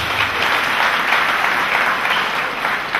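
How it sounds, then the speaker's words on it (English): A church congregation claps for Jesus Christ, a dense, steady wash of applause from many hands filling the hall at even loudness throughout. "Clap for Jesus Christ."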